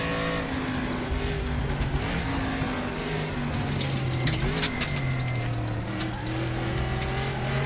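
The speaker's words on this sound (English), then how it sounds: "They stuffed a 600 horsepower, 6-liter V8 engine" A 600-horsepower 6-liter V8 race car from 1975 with a four-speed gearbox roars steadily throughout, its engine note rising and shifting through gears, loud and close with no talk.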